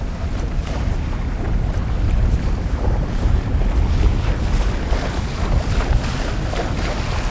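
Steady wind roaring and buffeting a microphone outdoors on a fishing boat on open water, with a constant low rumble and hiss.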